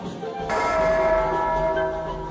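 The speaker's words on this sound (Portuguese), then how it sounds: "era anunciada com um toque específico dos sinos" A church bell in Ouro Preto, Brazil, strikes and rings on, its metallic tone sustaining and slowly fading over a low background rumble.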